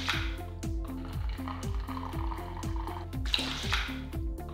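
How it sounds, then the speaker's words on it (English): Sanitising solution drains from the taps of a water cooler reservoir, with regular dripping and trickling liquid sounds that repeat in an even rhythm, close and fairly quiet. "we're going to drain off the solution out of the reservoir. And first of all, we'll take it from both taps"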